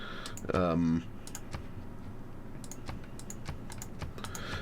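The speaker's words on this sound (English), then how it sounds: "lots of clicking" Rapid, close clicking from a computer mouse and keyboard runs throughout as a steady stream of sharp taps, with a brief voice near the start.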